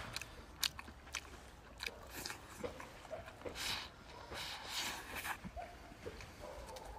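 A person chews and bites food outdoors in the sun during a simple home-cooked meal, with soft crunchy bites repeating at an irregular pace, close and fairly quiet.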